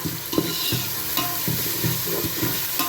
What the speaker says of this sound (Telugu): ఈ పెరుగును కూడా ఒక్కసారి ఈ ఆయిల్లో కలుపుకుందాం గ్రేవీ లాగా.